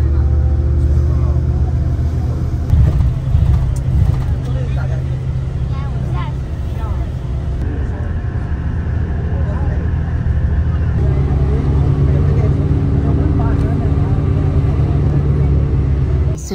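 A tour bus engine idles and runs in Kunming with a steady low drone and shifting tonal hum, loud and continuous, while people talk over it and crowd babble stays in the background.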